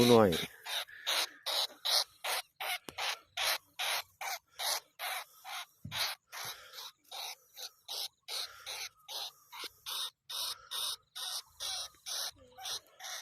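Rapid, regular high-pitched squeaks, as from a mouse or rat, repeat in a steady run of about two per second for over thirteen seconds, fairly faint and close, with no talk over them.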